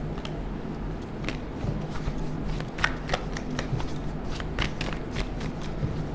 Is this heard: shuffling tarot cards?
yes